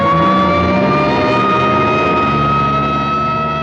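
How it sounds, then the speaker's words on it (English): A loud ambulance siren wails steadily with a rumbling engine underneath, as the ambulance drives past close by. "here comes an ambulance out"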